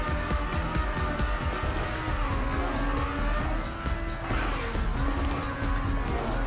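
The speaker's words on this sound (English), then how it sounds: "I'm hearing the car's engine." A race car engine from the video game Trackmania Nations drones loud and continuous, holding a steady high whine with small rises and dips in pitch as the car corners, and no voices over it.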